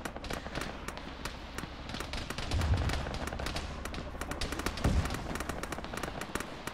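Automatic rifle fire in an Arma battle, rapid bursts of sharp cracks running almost continuously, moderately loud, with a couple of deeper thuds mixed in.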